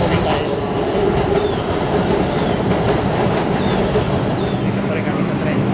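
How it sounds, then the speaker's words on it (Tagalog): Steady rattle and rumble inside a moving railway car, loud and continuous throughout, with faint squeaks and a murmur of voices underneath. "Dito pa rin kami sa tren."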